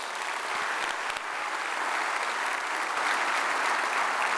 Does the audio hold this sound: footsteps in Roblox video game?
no